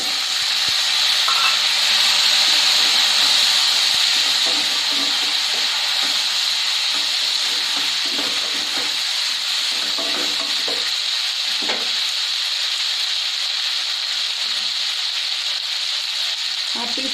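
Mango pieces sizzle and fry in hot oil with curry leaves in a pan for a mango curry, a loud, constant hiss with soft scraping stirs and light clinks scattered throughout.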